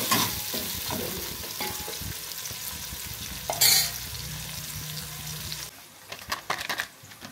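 Close, steady sizzling of chopped onions frying in oil, with scraping stirs and a brief metallic clatter partway through, the sizzle fading near the end.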